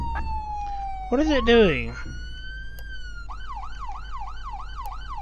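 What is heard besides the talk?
police siren that won't turn off in Flashing Lights video game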